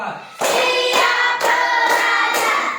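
Students in a classroom clap hands in a counted rhythm, sharp clap bursts landing about every half second, close and loud, with chanting voices running through them.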